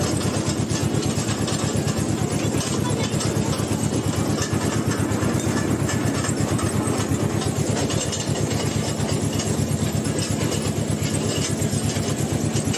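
Toy train engine in Dheusagar Park, Digha, running steadily with a loud, continuous rhythmic chugging rattle, close by and unbroken for the whole stretch.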